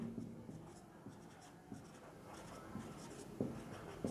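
A teacher writes notes during a Bengali-language English grammar lesson on the future continuous tense, producing scratchy strokes and taps at an irregular pace, close and fairly quiet, with no talking.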